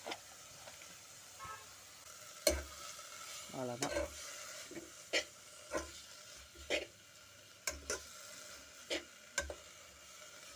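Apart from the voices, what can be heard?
stir-frying leaves in a pan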